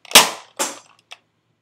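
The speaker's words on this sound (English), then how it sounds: "Now the gun shoots about 75 feet flat." A Nerf Maverick toy blaster fitted with a Stampede spring fires with two sharp, close snapping pops, followed by a fainter click as it settles.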